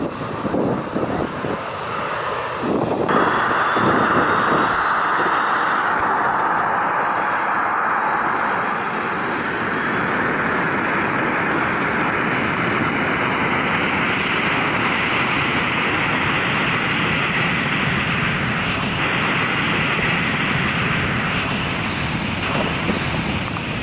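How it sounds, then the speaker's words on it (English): A Ryanair jet departing Skiathos airport blasts a loud, continuous roar of engine thrust close by on a short runway, holding steady throughout with a rising hiss early on. "This Ryanair jet blast at Skiathos airport sends tourists tumbling"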